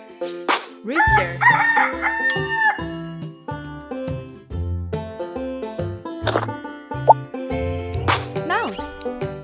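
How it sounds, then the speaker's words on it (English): A rooster crows amid playful chimes, plops and musical tones, with a voice speaking briefly over the cheerful game-like sounds. "Rooster."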